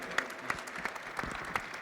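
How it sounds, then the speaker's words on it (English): Applause from an audience at a music panel in the UAE, steady dense clapping with a few sharper claps standing out, no voices on top. "him a big round of applause"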